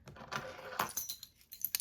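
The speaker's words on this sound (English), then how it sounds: "So I've only got a couple of keys here and a relatively small key ring" A couple of keys on a small key ring jingle and clink in soft, irregular bursts, close and fairly quiet, with no talk.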